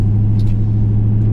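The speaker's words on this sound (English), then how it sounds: "yeah, the last ride in my C4 Corvette." A C4 Corvette on the road gives a steady, loud, low engine and road rumble from inside the car, continuous throughout with no voices.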